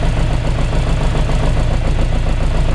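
An Austin Mk1 engine fitted with an Arden 8 port head idles steadily, a loud, close, continuous low rumble with an even pulsing beat and no other sounds.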